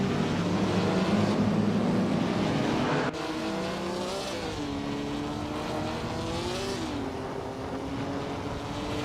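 Racing cars roar past in a video game race, among them a 1955 Mercedes-Benz 300 SLR: loud, continuous engine drone with rising and falling pitch as gears shift, a sharp change partway through, and no talk.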